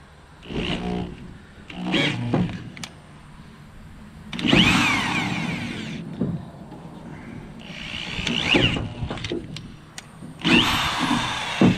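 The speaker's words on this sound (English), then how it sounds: "when you're getting close to the right size, it's a real pain to drill a hole anyway" A power drill bores a hole with a drill bit in several separate bursts of whining, grinding noise, each lasting a second or two, broken by quieter pauses with small clicks.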